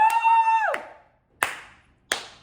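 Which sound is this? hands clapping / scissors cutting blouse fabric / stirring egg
hands clapping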